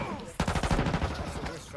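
SMG gunfire in Call of Duty Warzone: a rapid burst of automatic shots, close and loud, lasting about a second, with game noise underneath.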